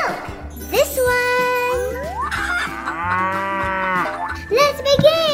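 A cow moos repeatedly in long sliding calls amid a busy mix of music, jingles and a voice talking, the lowing near and fairly loud.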